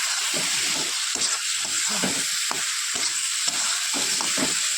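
Cauliflower curry cooked with green chillies sizzles steadily in a pan, with repeated scraping strokes of a spatula as it is sautéed and stirred, close and fairly loud with no talking.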